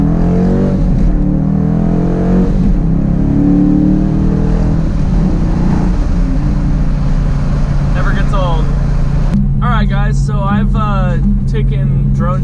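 A Dodge Challenger revs and pulls away, its loud engine roar building and then easing as it drives off outdoors, with rising whine-like tones near the end.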